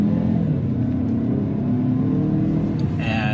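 A 2021 Mazda CX-30 Turbo accelerates hard from a slow roll, its engine note rising into a steady, loud rumbling drone with road and tyre noise underneath and no talking.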